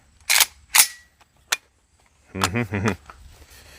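Suppressed Galil rifle in 7.62x39 fitted with a Huxwrks Ventum suppressor fires two sharp, muffled shots close together and a quicker third, followed by a short excited vocal whoop.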